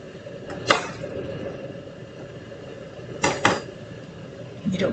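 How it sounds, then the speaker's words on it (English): A knife chops a teaspoon of garlic on a board in a home kitchen, giving a few sharp, close clicks in short clusters over quiet background noise. "let me mince a teaspoon of garlic"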